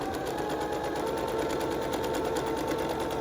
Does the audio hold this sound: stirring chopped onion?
no